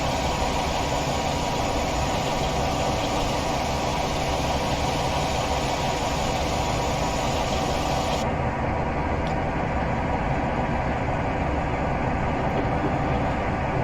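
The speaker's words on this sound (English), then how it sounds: "So full throttle, and the engine is turning at 750 RPM." A Class 47 diesel locomotive at full throttle in Train Simulator drones with a steady, loud, low rumble that holds unchanged throughout, with no talking.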